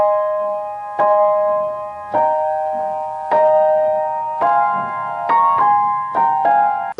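A piano plays a bar of a song with the sustain pedal down, eight or so clear chord strikes ringing into one another at a steady pace, alone and close.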